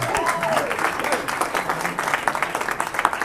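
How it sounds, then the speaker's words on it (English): An audience of about a hundred people at a holiday luncheon applauds steadily for a few seconds, a dense wash of clapping filling the room at moderate loudness. "Give yourselves a nice round of applause."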